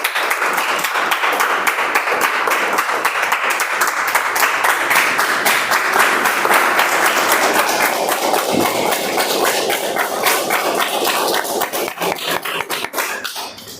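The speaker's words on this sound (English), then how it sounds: "Thank you so much for the applause." Audience applause at a Toastmasters club meeting, a sustained wash of many hands clapping at steady loudness that begins to thin and break into scattered claps near the end.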